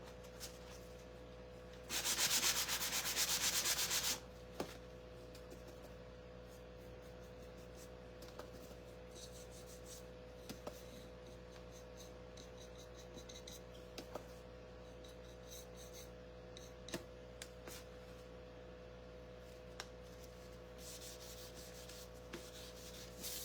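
Wood being sanded by hand in a short, steady burst of rough rubbing near the start, followed by a faint low hum with occasional light taps.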